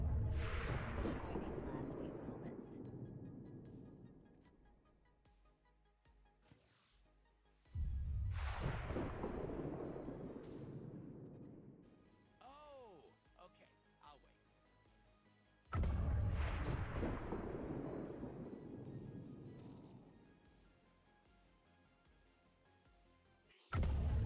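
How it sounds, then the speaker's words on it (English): Flashbang grenades and explosions in the video game XCOM Long War, three loud booming blasts spaced several seconds apart, each decaying into a long rumbling tail. "I think I will actually throw the flashbang in here."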